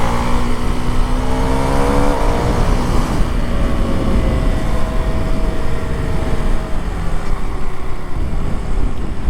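A Husqvarna Svartpilen 401 motorcycle accelerating hard, its engine note rising in pitch through the gears with a loud, sustained close-up roar.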